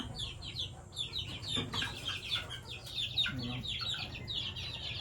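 Gray backyard chickens cluck and chatter repeatedly in short, rhythmic calls from close by, with an occasional sharper squawk and faint outdoor background noise.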